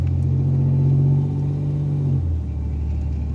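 A 1987 Chevrolet Celebrity Eurosport with a 2.8 V6 drives at low speed in second gear, its steady engine drone dropping in pitch as it shifts gears, heard from inside the car with no talking.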